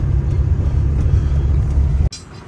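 A loaded truck running on a single wheel after a puncture rumbles steadily on the road, a dense low engine and tyre drone that cuts off abruptly near the end.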